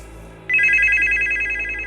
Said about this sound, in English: My phone buzzed.